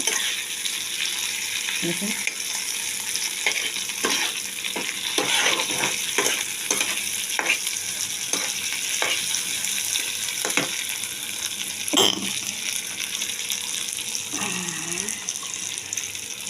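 Potato and onion pieces frying in a pan for a spicy fish dish, a steady loud sizzle with repeated scraping stir strokes throughout.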